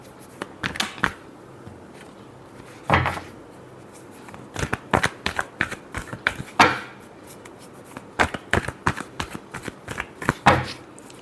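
A tarot deck being shuffled by hand up close, with repeated crisp riffling bursts of card noise separated by short quiet pauses, and no voice.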